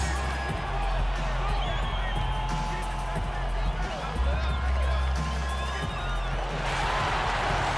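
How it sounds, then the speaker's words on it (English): A large indoor crowd in an NBA 2K18 basketball arena roars and cheers continuously for the Indiana Pacers, with whoops and a loud, dense wash of noise throughout. "Make some noise for your Pacers"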